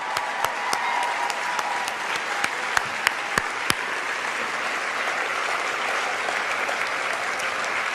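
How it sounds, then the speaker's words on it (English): An audience gives the Odyssey staff a warm round of applause, sustained dense clapping with a few sharp, close individual claps standing out early on. "I really would like you to join me in giving the Odyssey staff a warm round of applause."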